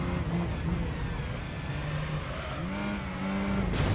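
Chrysler PT Cruiser racing in the video game Gran Turismo 3, its engine droning steadily with rising and falling gear pitches and shifts, a brief burst of noise at the end, voice faintly present underneath.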